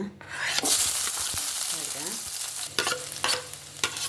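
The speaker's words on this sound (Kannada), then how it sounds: "ಅರ್ಧ ಕ್ಯಾಪ್ಸಿಕಮ್ ತೊಂದೆ ಅರ್ಧ ನೀರುಳ್ಳಿ ತೊಂದೆ ಅರ್ಧ ಕ್ಯಾರೆಟ್ ತೊಂದೆ ನೀನು ಫ್ರೈ ಮಲ್ಪುಗ" Half a capsicum, half an onion and half a carrot fry in oil in a pan, a steady close sizzle broken by several sharp stirring scrapes, with no talking.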